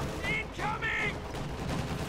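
Rapid 2 cm cannon fire from a unit in the Company of Heroes 2 strategy game, a continuous burst of shots in a busy battle mix, with a few bright tonal sweeps above it.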